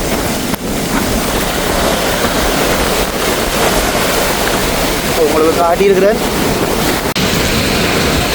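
Rough, churning sea surf pounding the shore at Jaffna during Cyclone Ditwah, a loud continuous roar mixed with heavy wind buffeting the microphone, with someone talking over it throughout.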